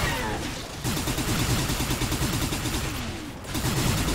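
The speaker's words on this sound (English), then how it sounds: "This felt like there was somebody shooting me from closer." Rapid gunfire from the first-person shooter Hard Reset, with dense overlapping shots in sustained bursts and brief gaps, loud and close over a busy game soundscape.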